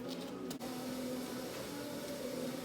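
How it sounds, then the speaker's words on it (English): A power grinder takes material off the sides of a front brake pad for a 1976 AMC Pacer, making a continuous steady motor whine with a rough grinding edge, close and fairly loud throughout. "So I'm going to grind off the side here just a little bit, here and here, there and there"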